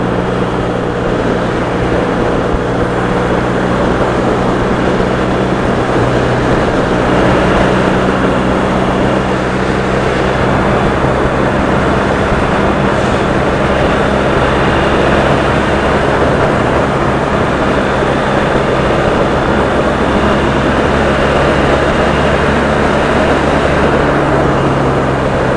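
A motorbike engine under way, heard as a continuous loud roar blended with wind buffeting, steady and unbroken throughout, with a low hum underneath and no voices.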